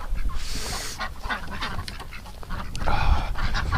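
Ducks in a cold winter barn give repeated honking quacks, loudest near the start and again toward the end, over shuffling and rustling bedding.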